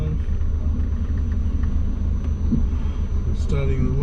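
A twin-turbo Foz drives along with a continuous, loud, deep rumble from the engine and road. A voice speaks briefly over it.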